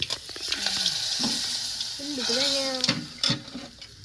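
Rice is stirred and mixed in a frying pan, a close, steady sizzle with scraping strokes of a spoon, while a voice talks over the cooking.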